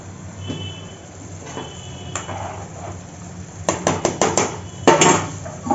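Near the end, a metal lid goes onto a cooking pot with a quick run of light clinks and one louder clatter, over a steady background hum with no talk.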